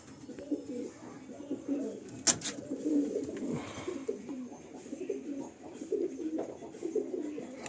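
Pet pigeons, including an Andhra pair, coo softly in a loft, repeated low throaty calls close by with faint background clatter and no talk.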